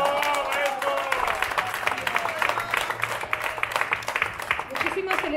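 A crowd at a street inauguration claps, quick scattered hand claps running steadily beneath a voice and other nearby chatter.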